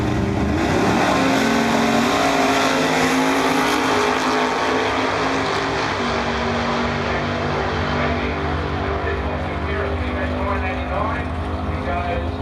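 Big block Ford Mustang drag car making a pass, a loud, sustained, dense engine roar holding steady for the whole stretch with broadband noise, heard from nearby with a commentator's voice mixed in.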